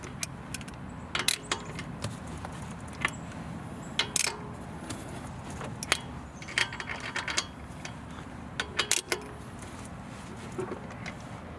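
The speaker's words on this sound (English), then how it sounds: "First, manually tighten all the bolts in a crisscross manner." Wheel bolts being hand-tightened on a Volvo XC during a front brake job, heard as faint metallic clicks, scrapes and ratchet-like ticks in scattered short bursts over low background rumble, with no voices.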